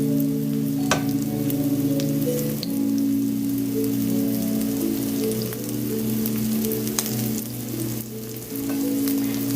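Shrimp for shrimp and grits spread out in a pan fry with a steady, dense sizzle and crackle, loud and continuous throughout with no talking.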